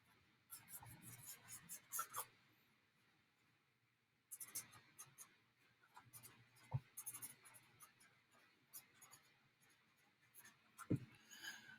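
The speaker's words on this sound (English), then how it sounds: "So I'm going to write down my thinking bubble." Pen or pencil writes on paper close up, with soft scratchy strokes in several bursts separated by pauses and a few sharper taps, quiet in an otherwise still room.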